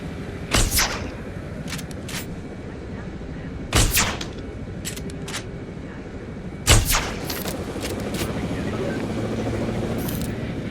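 Video game gunfire at the Tacano Research Facility, three sharp loud bursts spaced a few seconds apart with a few lighter single shots between, over a steady ambient hum, with a voice talking.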